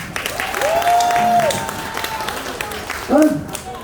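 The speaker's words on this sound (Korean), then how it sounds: "내일 많이 오실 분들 박수 한번 주세요" Audience applause at an outdoor street festival performance in Chungju beside Jihyeoncheon stream, a steady wash of clapping that runs throughout, with a tonal voice sounding over it.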